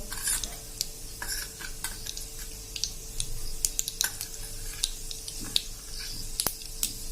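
Mustard and fenugreek seeds crackling in hot oil, a steady sizzle dotted with sharp pops and spits, close and fairly quiet with no talk.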